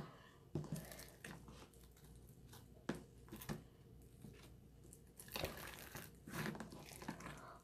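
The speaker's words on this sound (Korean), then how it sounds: "이것도 바스락거리입니다. 비닐봉수처럼." Water slime being squeezed and handled up close, giving soft crinkling and crackling like a plastic bag, in irregular bursts with quiet gaps between.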